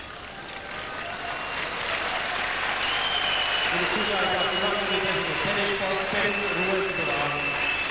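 Crowd at a tennis semifinal in Basel, sustained applause and restless indoor noise from many people, steady and fairly loud, with a commentator talking over it.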